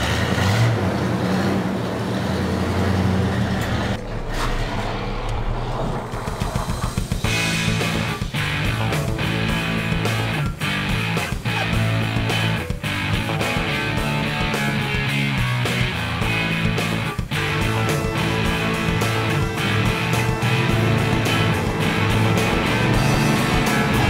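A car rolls out on a test drive after a rear leaf spring install, its engine and road noise running continuously and loudly, with rapid clattering bumps and shifts in tone along the way.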